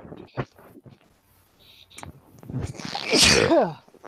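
A single loud sneeze bursts out near the end after a stretch of quiet background noise, close and sharp.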